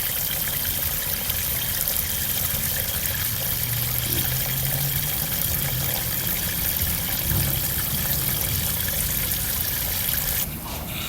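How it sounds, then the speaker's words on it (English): Water running steadily into a rock tumbler barrel as it is filled, a continuous close trickling and pouring wash that holds throughout with no talk. "I had to fill my barrel up with water"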